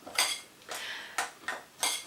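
A utensil mixes flaky pastry dough with cold water in a bowl, five distinct scraping strokes against the bowl at a slow, uneven rhythm, close and clear with no talk.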